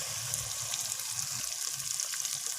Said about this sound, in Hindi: इसको भी हम 2 से 3 मिनट भूनेंगे